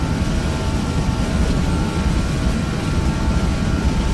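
Airbus jet engines roaring at takeoff power on a snowy departure, a loud, steady, dense rumble heard from inside the aircraft with no talk over it.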